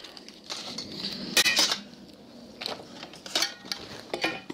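Metal pots clink and clatter against one another in several short bursts, close by, with a few louder rattles in between quieter handling.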